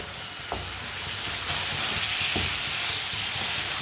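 Turnip (shalgam) curry fries in a pan with a constant close sizzle, broken by a couple of spoon strokes and scrapes as it is stirred.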